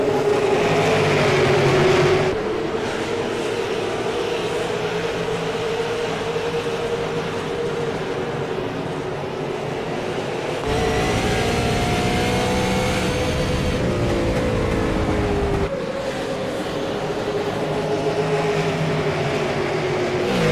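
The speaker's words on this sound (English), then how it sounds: "When we say temporarily loud engines," Loud simulated race car engines roar steadily in an iRacing online stock car race, a dense continuous drone with shifting pitch as the cars run in a pack, with no talk over it.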